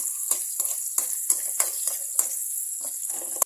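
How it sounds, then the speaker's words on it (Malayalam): Halved small shallots frying in hot oil for a curry, a steady close sizzle punctuated by repeated sharp clinks and scrapes of a utensil against the pan, ending abruptly. "ഈ എണ്ണ ചൂടായി വരുമ്പോൾ ഒരു പത്ത് ചെറിയുള്ളി നടുവേ കീറിയത് ഒന്നിട്ട് കൊടുക്കുക"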